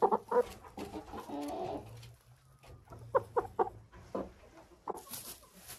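Kob 500 broiler hens clucking and cooing nearby in short bursts of calls with pauses between, fairly soft, alone without talk.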